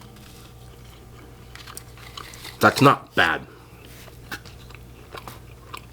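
Papa John's chocolate chip cookie with a crisp outside and moist inside being bitten: two close, sharp crunches in quick succession, then quieter chewing, with a short spoken remark from the eater.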